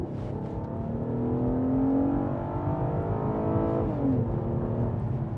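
A front-wheel-drive Lincoln Continental sedan with a 3.7-liter V6 accelerates on a chilly day, its engine droning and rising steadily in pitch from inside the cabin, with a brief dip as it shifts gears before climbing again.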